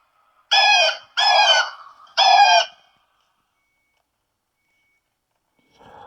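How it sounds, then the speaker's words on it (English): An indoor plug-in pest repeller in trio mode giving out three short, bright chirping bursts, then near silence and a faint sound at the end. "It throws out different types of sounds to scare off"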